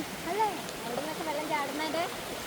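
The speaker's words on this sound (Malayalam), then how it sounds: "നല്ല ഒച്ച കേട്ടോ വെള്ളത്തിൻ്റെ" A clear forest stream flows over rocks, a continuous soft rush of water in the background. Someone talks over it the whole time.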